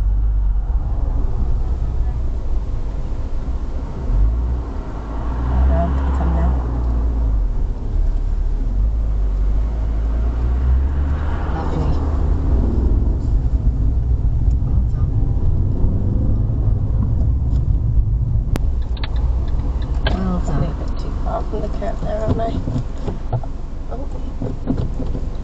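Interior of a manual-gearbox car rolling along during a driving lesson, a steady low road and engine rumble with soft swells, heard from inside the cabin with people talking at times.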